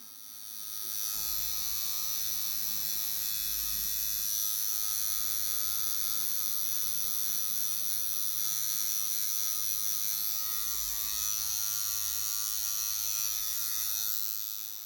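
Electric tattoo machine buzzing steadily while coloring a tattoo with brown and black ink, a continuous high, close whine that holds constant for the whole stretch with no talk over it.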